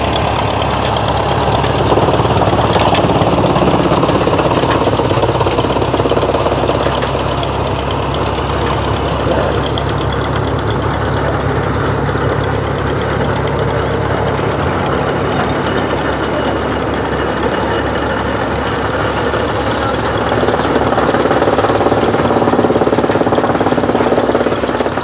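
An antique steam tractor at a tractor show in Halltown, Missouri, runs with a loud, continuous chug and knock, with a heavy rumbling vibration, close up and unbroken throughout.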